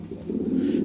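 A Lahore pigeon coos with a single low, soft, throaty call rising in strength, heard close against a faint background.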